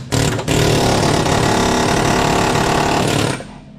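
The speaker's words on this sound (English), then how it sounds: "You probably already know this is an impact gun." A pneumatic impact gun rattles in one loud, sustained burst of about three seconds after a short opening blip, close up while removing suspension parts from a 1964 Ford Fairlane.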